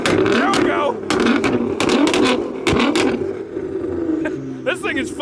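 A loud Dodge Hellcat with a Tomball exhaust revs hard at a car meet, its roaring engine rising and dropping in bursts close by while people shout and talk over it.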